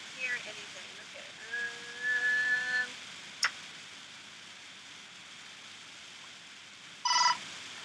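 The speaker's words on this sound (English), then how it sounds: "you heard my phone go" A mobile phone sounds a short tonal message alert, a few brief beeping tones early on and another short chime near the end, against a quiet room.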